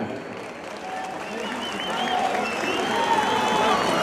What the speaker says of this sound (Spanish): El aplauso es para él.